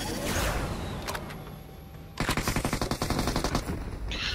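Rapid automatic gunfire in PUBG Mobile aimed at a buggy, a dense burst of sharp, evenly spaced shots that grows louder in the second half after quieter mixed game noise.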